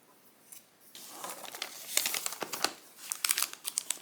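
Wrapping paper crinkles and rustles as it is folded around a gift box's handle, with soft close crumpling building into sharper crackles and quick crisp bursts, no voices.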